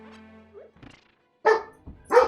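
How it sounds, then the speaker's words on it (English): A dog barks twice in loud, sharp bursts after a short stretch of quieter indoor sound, the barks close and forceful. "I'm sick of the barking!"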